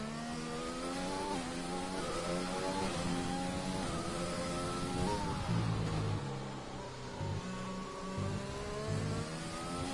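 Race car engine at full throttle on wet-weather intermediate tyres at the Russian Grand Prix in a racing video game, a loud, continuous, high-revving whine with rising pitch sweeps and brief dips for gear changes.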